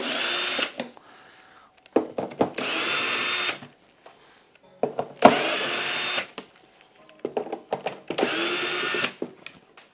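Power screwdriver backing out the screws of a tumble dryer's air duct cover, four or five separate loud whirring bursts of about a second each with short gaps between, close up and with no talk.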